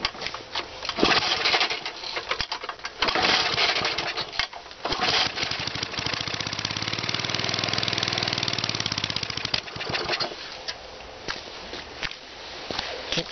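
A Briggs & Stratton small engine fitted with an ice cylinder head and very low compression sputters and tries to run, with uneven bursts, a brief steadier stretch in the middle, then faltering, close and fairly loud.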